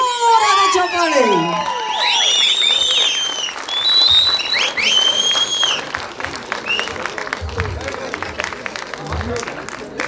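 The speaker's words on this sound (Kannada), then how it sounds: "ದಯವಿಟ್ಟು ಜೋರಾದ ಚಪ್ಪಾಳೆ" Audience applause at a film teaser launch event in Sandalwood cinema, with a crowd clapping loudly and steadily while a presenter's amplified voice carries over it at the start before the clapping continues alone.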